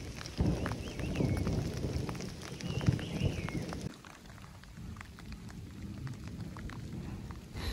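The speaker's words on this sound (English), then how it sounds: "but it's actually ice falling" Hail hits the ground on a Himalayan trekking route in Nepal during a thunderstorm. A dense patter of ice pellets is heavier at first and then eases, with low rumbling underneath and no talk.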